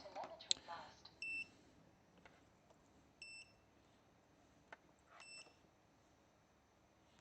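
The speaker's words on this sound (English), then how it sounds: "But we know it's beeping." A NewbeeDrone Infinity 255 AIO drone's beeper sounds a few short, high electronic beeps in separated bursts, fairly faint against a quiet room with occasional handling noise.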